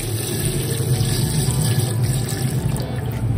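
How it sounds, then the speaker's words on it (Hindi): Water pours steadily into a cooking pot of goat trotters seasoned with turmeric, a continuous close splashing and gurgling stream with no talking. "अब हम इसमें थोड़ा सा पानी डालेंगे जिसमें ये पावे गल जाएं"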